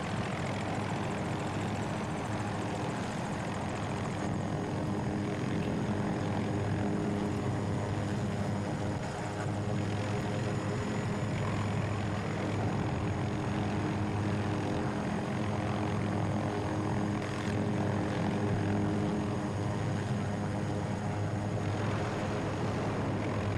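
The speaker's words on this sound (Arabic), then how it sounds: "اخذت الليتل بير" Little Bird helicopter in Battlefield 2042 flies with a constant loud rotor and engine drone, dense and unbroken, with no talk over it.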